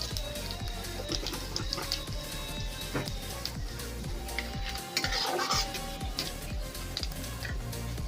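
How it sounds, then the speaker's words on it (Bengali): Cumin seeds tempering in hot oil for a papaya curry, heard as a light sizzle under repeated metal clinks and scrapes of a spoon stirring in the pan, close and steady. "ফোড়নটা বেশ কিছুক্ষণ ধরে একটু ভেজে নেব, একটু যতক্ষণ না লালচে হবে।"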